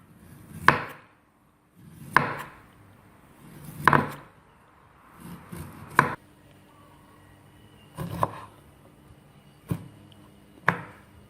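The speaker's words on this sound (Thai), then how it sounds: "หลังจากนั้นปอกเปลือกออกนะคะเราจะไม่ใช้เปลือก" A knife peels two lemons on a cutting board, giving about seven separate knocks and scraping thuds spaced a second or two apart. Each stroke is close and fairly crisp, with no talking between them.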